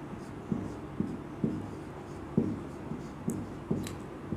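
Someone writes on a board in a quiet room, and the strokes and taps come in an irregular rhythm about every half second. The sounds are faint and close, with no talk over them.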